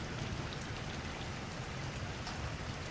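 Rain falls steadily in a soft, even hiss with scattered drop patters, fairly quiet and continuous, with no voices.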